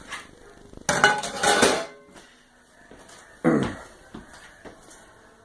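Blocks of Velveeta cheese drop into a crock pot with two clattering bursts of handling and knocks against the ceramic pot, close by in a quiet kitchen, no talk.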